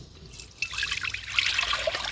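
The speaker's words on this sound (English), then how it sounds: "We're simply going to get a strainer and another bowl over here and pour it all in it." Homemade buttermilk pours through a strainer into a bowl, a steady close trickle and splash that swells after the first moment and runs on continuously.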